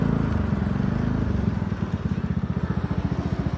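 A Yamaha Mio Gear 125 scooter idles and putters at low speed while looking for parking, its engine thrumming steadily, then settling into a pulsing idle, close and moderately loud.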